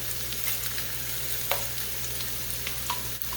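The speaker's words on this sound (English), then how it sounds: "I like to saute some of my tomato paste in here" Tomato paste sautés in a pan with a soft, continuous sizzle over a low steady hum, punctuated by a few light taps and scrapes of a spoon; nobody speaks.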